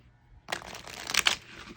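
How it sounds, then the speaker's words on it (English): Close riffling of an oracle card deck being shuffled, a quick flurry of papery flicks after a quiet start, with no talking. "again, shuffle it like this as well."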